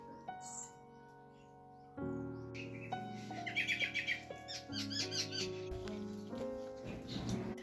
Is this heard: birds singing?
yes